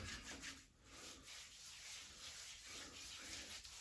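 A hand rubbing back and forth over a freshly shaved scalp with fine stubble, giving a soft, dry, sandpaper-like scratching that is very close and quiet, heard alone.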